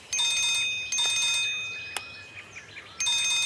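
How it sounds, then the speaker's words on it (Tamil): A telephone rings with an incoming call, repeated bursts of bright electronic trilling in a steady on-off rhythm, fairly loud and close, with a brief click between rings and no talk over it. "ஐயா போன் வந்திருக்கு."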